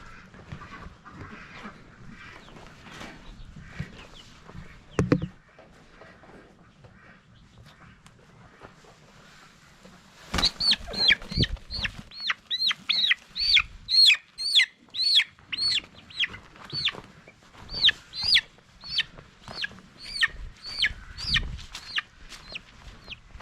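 Chickens on a compound, with a soft rumble and a few thumps early on, then loud repeated clucking and squawking calls in a fast, irregular series up close.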